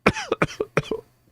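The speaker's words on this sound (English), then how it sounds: "You hear that cough? It's an old cough." An elderly character in the video game Mass Effect Legendary Edition gives a series of four or five harsh, close coughs in quick succession that trail off into silence.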